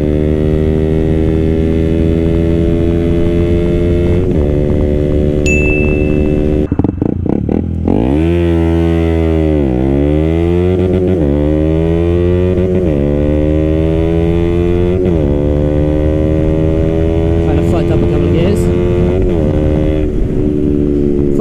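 KTM Duke 125 motorcycle with a K&N air and oil filter accelerating hard, its loud buzzing engine climbing in pitch through the gears, with sharp drops at each shift and a brief stutter against the rev limiter early on.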